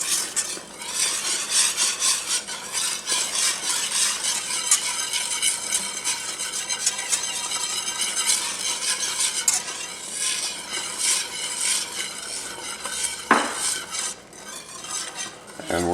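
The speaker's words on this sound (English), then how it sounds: "let this continue to boil for just about a minute" Scalloped potato sauce bubbles in a pan over a switched-off burner, giving a steady close crackle and sizzle with some utensil clinks and stirring scrapes throughout.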